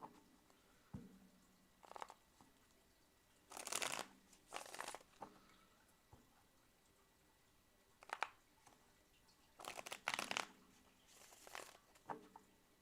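Tarot cards being shuffled by hand, several brisk riffling bursts spaced apart with quiet pauses and light card taps, close and fairly soft.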